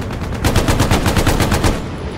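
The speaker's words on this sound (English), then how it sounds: "Really liking the Bren Gun, good rate of fire." A Bren light machine gun fires in the video game Hell Let Loose on the El Alamein desert map: a rapid, loud burst of about a dozen evenly spaced shots, close and continuous, with no talk over it.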